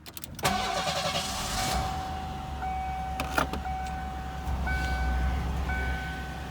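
A 1990 Ford Thunderbird 3.8 V6 is started by turning a flathead screwdriver in the ignition; the starter whirs briefly before the engine catches and idles steadily, with a faint chime ringing intermittently.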